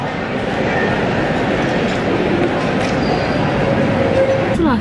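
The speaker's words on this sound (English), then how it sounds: "We're now on the train home." Steady broadband rumble and rattle of a moving passenger train from inside the carriage, continuous and loud throughout, with brief faint squeals near the end.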